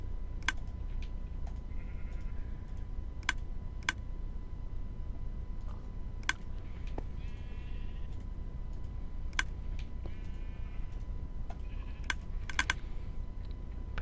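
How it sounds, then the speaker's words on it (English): Keyboard and mouse clicks during a Minecraft session, sparse sharp ticks scattered over a steady low hum with a faint tone, close and clear, with no one speaking. "All you hear is clicking."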